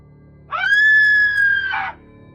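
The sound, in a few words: woman screaming loudly, audio drama effect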